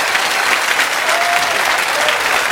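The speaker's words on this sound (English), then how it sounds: "Give them a round of applause." A studio audience applauds loudly and continuously for arriving guests on a TV show, a dense wash of clapping with faint crowd murmur.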